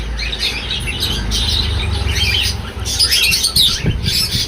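Parakeets and their chicks at a bird seller's stall keep up a busy, overlapping mass of high chirps and tweets, close and fairly loud, with occasional squawks over a low background rumble.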